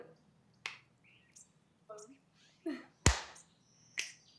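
Finger snaps made in practice during a vocational-school activity session, a few sharp clicks spread across the clip with one loud crisp snap near the middle, amid soft quieter sounds.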